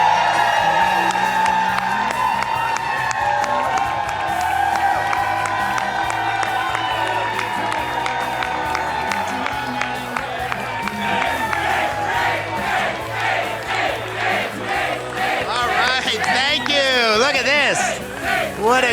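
A large crowd cheers and whoops at a Senate victory speech, loud sustained roaring with clapping and shouts, while someone speaks over the noise near the end.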